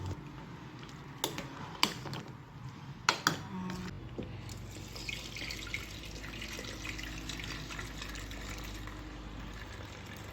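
A few sharp clinks, then a steady stream of cooking water drained from boiled greens and legumes pours and splashes continuously, moderately loud and close, with no talking.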